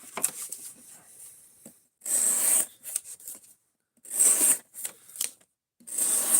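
A sharp knife slices through cardboard in several short bursts of crisp scratchy ripping, separated by quiet gaps, close and fairly loud, with no talk.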